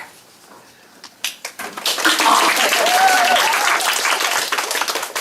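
Audience applause at a one-act play performance, beginning with a few scattered claps and swelling into sustained, fairly loud clapping from many hands.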